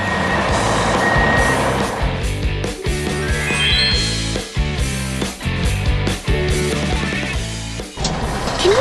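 A cartoon rescue truck arrives, repeated reversing beeps ringing out over a busy, bright musical backing with clanks and jingles.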